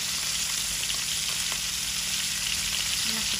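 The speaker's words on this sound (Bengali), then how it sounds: "আমাদের মাছ ভাজি হয়ে গেছে, অনেক সুন্দর করে মাছটি ভাজা হয়েছে।" River fish frying in a pan gives a steady, close, bright sizzle that holds at an even level throughout, with no talking.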